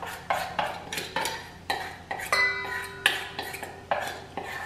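Whisk or spoon clinks against a bowl in a steady rhythm while gluten-free, egg-free pancake batter is mixed with olive oil in place of melted butter, about nine close, bright scraping knocks with a brief ringing tone midway.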